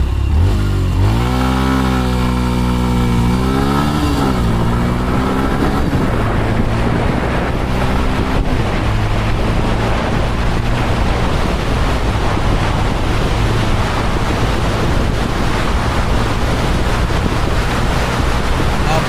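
A Yamaha FZS V4 motorcycle accelerating hard from a standstill toward 100 km/h. The engine note rises and falls through a couple of gear changes, then is swamped by heavy, roaring wind buffeting.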